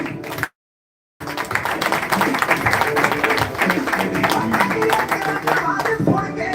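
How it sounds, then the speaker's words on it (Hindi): Applause from a seminar audience in Bathinda, Punjab, dense and sustained after a brief gap of silence, steady clapping that fills the room throughout. "जोरदार तालियां सर के लिए।"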